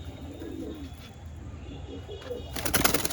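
Domestic pigeons coo softly and steadily at close range, low burbling calls repeating through the stretch, with a burst of fluttering or rustling near the end.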